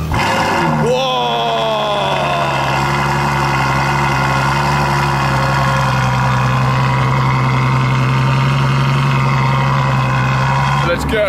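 A Ferrari engine cold-starts with a sharp burst and then settles into a loud, steady, high idle with a rich harmonic drone. A voice exclaims briefly over the start.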